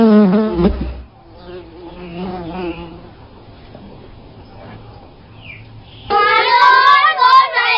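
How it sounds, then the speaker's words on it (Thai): A housefly buzzes in a Thai film about Sri Thanonchai, a thin droning whine that comes and goes, heard between and under loud bursts of speaking voices. "ไอ้เจ้าแมลงวันตัวนี้นี่เอง"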